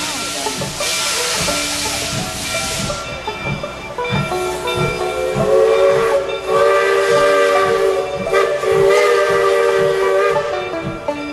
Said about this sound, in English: the steam trains continue to roll through the foothills of Mount Rainier